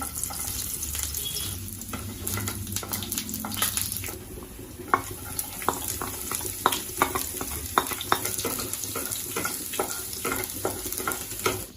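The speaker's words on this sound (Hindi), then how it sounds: "जैसे ही हम पैन में ऑयल डालेंगे उसके कुछ सेकंड्स बाद ही हम गार्लिक क्लोव्स इसमें डाल देंगे" Garlic cloves sizzling in hot oil in a pan, a moderate steady hiss overlaid with frequent sharp taps and clicks of a utensil against the pan, no voices.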